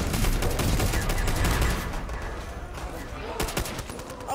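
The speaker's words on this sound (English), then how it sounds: "I'm taking out my ray gun." A ray gun fires in a zombie video game: a dense rapid burst of zapping shots at first, then quieter, scattered blasts, with voices faintly beneath.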